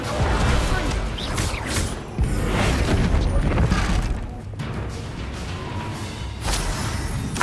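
Bombarda spell blasts in Hogwarts Legacy, a run of loud booms, crashes and crumbling debris layered over mechanical clatter and creaks, dense and continuous with a brief dip before the noise surges again.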